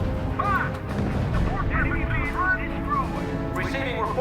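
Gunfire and artillery booms in the strategy video game R.U.S.E., repeated blasts under someone talking, with radio-style voice reports.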